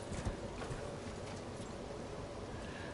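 Horse hooves clopping at a gallop in the Elden Ring video game, a steady rapid thudding rhythm heard close, with a low continuous game background underneath.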